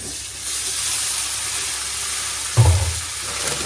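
Tomatoes dropped into a pan of sautéing onions and curry leaves for a chicken kuzhambu, with a steady sizzling hiss and a sudden louder burst of frying and stirring near the end.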